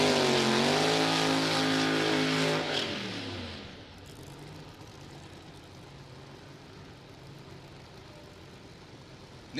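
A top alcohol funny car launches down a drag strip during an elimination round, its engine screaming loud with rising harmonics for about three seconds before the roar cuts off and fades into distant crowd and track ambience.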